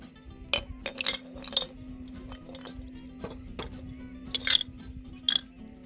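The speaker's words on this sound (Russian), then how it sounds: "и наполняем бокал доверху льдом." Ice cubes clink and rattle into a glass while a mojito is built with lime juice and fresh mint leaves, several bright chinking bursts in close succession over a low steady hum.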